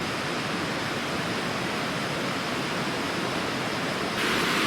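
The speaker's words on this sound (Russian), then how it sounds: "Река проходит здесь" A river flows through a mountain valley, giving a steady, continuous broadband rush of moving water that stays even and close throughout and swells slightly near the end, with no voices.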